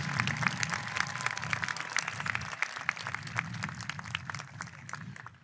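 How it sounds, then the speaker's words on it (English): An audience at a high school commencement ceremony applauds the graduates, a dense steady clatter of many hands over a low murmur of room noise, easing slightly near the end. "Let's give them a round of applause"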